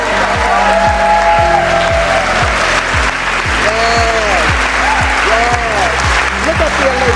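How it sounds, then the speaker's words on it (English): An audience at an awards celebration honoring women breaks into sustained, loud applause, a thick wash of clapping that runs throughout while a voice carries over it. "It's been a hearty round of applause."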